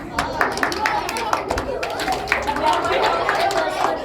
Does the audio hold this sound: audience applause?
yes